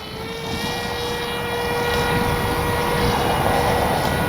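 A Dynam Hawksky V2 RC power glider climbs under electric motor power, making a steady, fairly loud propeller whine with a droning hum that swells slightly as it gains height.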